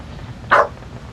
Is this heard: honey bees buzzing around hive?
no